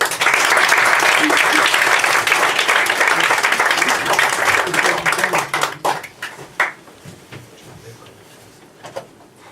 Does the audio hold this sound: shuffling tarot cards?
no